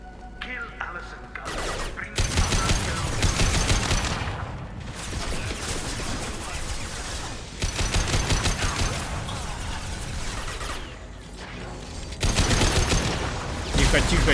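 Sustained Mass Effect 2 gunfire rattling in dense bursts, loud and continuous across the stretch, with short breaks between volleys and talk running underneath.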